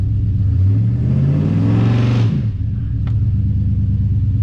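GMC 2500 HD diesel pickup revving against a two-step limiter, a close, loud engine note climbing in pitch and holding before dropping back to a low idle rumble.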